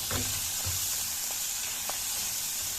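Liver and onions seasoned with black pepper sauté in a pan with a steady close sizzle and hiss, a few soft stirring knocks breaking through the frying noise.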